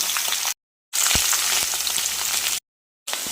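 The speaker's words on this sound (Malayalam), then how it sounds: "നല്ലതായിട്ടൊന്ന് മൂത്ത് വരട്ടെ. അതുവരെ നമുക്ക് ഇളക്കാം." Onion, green chilli and curry leaves fry loudly in hot oil, a dense bright sizzle broken by two short silences, with occasional low knocks of a spoon stirring the pan.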